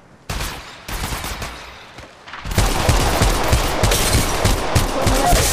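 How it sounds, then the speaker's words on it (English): Gunfire in the shooter game Apex Legends Mobile: loud, sharp shots and rapid bursts, first in separate volleys, then a dense, continuous barrage of automatic fire. "Taking fire!"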